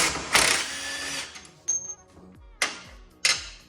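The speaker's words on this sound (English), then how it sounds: "I'm gonna take the bolts off here," Bolts being removed from a John Deere D1 transmission with a power tool, heard as several close, loud whirring bursts of varying length separated by short quiet gaps, with no talking.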